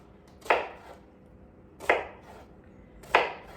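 Three separate chops of a kitchen knife through an onion on a cutting board, each a crisp thunk spaced about a second and a half apart, close and distinct without speech.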